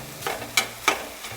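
A small amount of meat fries in a pan and is broken up into crumbles for a ciabatta stuffing: a soft, close sizzle under a few sharp scraping stirs.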